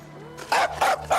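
A dog barks three times in quick succession, close and loud, with a faint whine before the barks.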